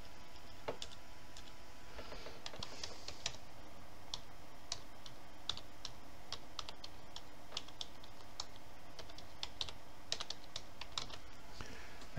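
Quiet, steady typing on a computer keyboard, with many light clicking keystrokes in an irregular rhythm, heard close in a calm room with no talking.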